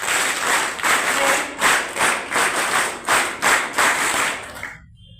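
A crowd at a gathering in Bhilwara, Rajasthan, claps loudly for honoured guests, with a rhythmic pulsing pattern of claps close and strong, ending abruptly.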